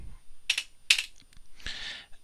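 Mouse clicks and releases while drawing with a pen tool in design software, two sharp separate clicks followed by a brief rustling burst, close and fairly quiet, with no talking.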